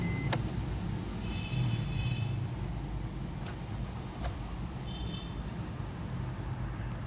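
A Suzuki Ertiga 1.3L ZDi diesel hybrid SHVS from 2017 starts from inside the cabin, with a few sharp clicks over a steady low engine rumble and hum that settles into idle, with no voices.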